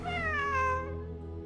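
A cat meows in the Genshin Impact video game: one drawn-out, clear, close meow with rich harmonics that slides in pitch and then fades, heard alone with no talk.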